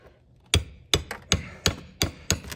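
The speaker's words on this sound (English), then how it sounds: "We'll get some of these nails out" Six sharp, evenly spaced hammer strikes pulling nails from a swamp cooler on a mobile home roof, close and loud with a brief ring after each blow.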